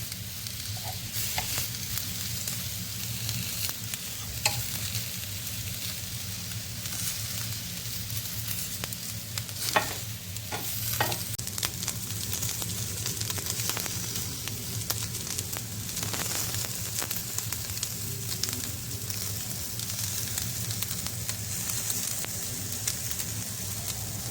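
Kofte patties sizzle steadily in a pan over low heat, a continuous close frying hiss with occasional crackles and soft scrapes as they are turned, no voices.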